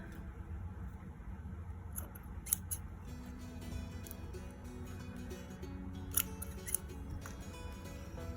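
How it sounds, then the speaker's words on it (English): Scissors snipping thread ends after looming, a few short, sharp close snips scattered across an otherwise quiet background, with no talking. "So now we can just cut our ends."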